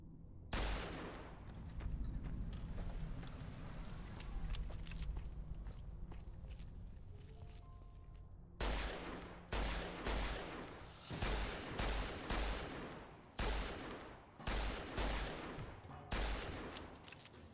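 Hunting rifle fire in Fallout New Vegas, a run of sharp, loud cracks in the second half, about eight shots at irregular intervals, following a stretch of dense continuous clatter and noise.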